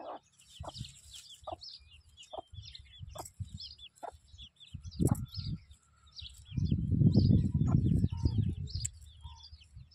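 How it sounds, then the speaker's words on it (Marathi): Chickens and small chicks in a village yard cluck and peep repeatedly, with a louder burst of squawking fowl near the end, heard alongside someone talking. "इथं कोंबडे बघा, कोंबड्याची पिल्लं येत आहे ते"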